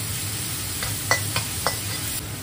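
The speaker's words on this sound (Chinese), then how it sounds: "姜牛肉粒下里煸姜" Diced beef and ginger stir-frying in a small amount of oil in a pan, a steady low sizzle with a few light scraping stirs, close and alone with no talk.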